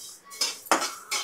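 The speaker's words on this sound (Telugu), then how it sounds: "నువ్వుపప్పు ఫ్రై చేసుకుంటున్నాం." Sesame seeds frying in a pan are stirred with a utensil, making three close, clattering metallic scrapes against the pan over a soft background, with no talking.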